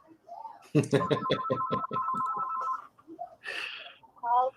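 A telephone rings with a short run of evenly spaced bell-like pulses near the start, loud and close, followed by a person talking and other indoor sounds.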